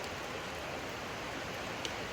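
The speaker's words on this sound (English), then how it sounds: "It's pouring down rain" Heavy rain pours down in a steady, dense hiss with no breaks, a constant wash of sound heard outdoors beside a Deuce and a Half military truck.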